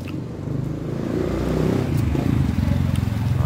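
A motorcycle engine rumbles past nearby, its low, uneven drone building and holding over a few seconds amid faint background voices.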